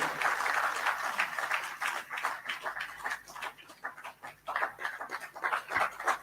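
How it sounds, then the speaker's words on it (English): At the Gambia Football Federation presidential debate in 2022, an audience claps faintly and unevenly, the scattered hand claps rising and thinning across the room. "this is the only time you have to put your hands together and clap"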